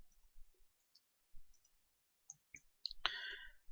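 Computer mouse clicks, a few sparse faint taps spaced irregularly in a quiet room, ending in a slightly louder click with a brief rattle.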